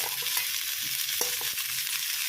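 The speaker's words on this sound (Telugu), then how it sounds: "ఇవి చూడండి, ఇలా ఉడికించి రొయ్యలని ఇలా ఫ్రై చేయండి" Prawns sizzle steadily in a pan during a dry masala fry, with light scraping and clinks of a spoon stirring them. The frying hiss stays constant and fairly close, and no voices are heard.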